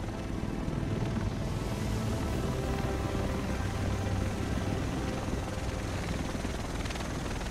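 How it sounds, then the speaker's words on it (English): A helicopter in the video game Tom Clancy's The Division arrives with a loud, continuous rotor roar and engine drone that stays steady and close throughout, with no voices over it. "The rest of us should be in this chopper."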